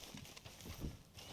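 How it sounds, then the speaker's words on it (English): A video-game horse trots with soft, quick clip-clop hoofbeats, faint and somewhat muffled, in an uneven rhythm over a short stretch. "Get on the horse."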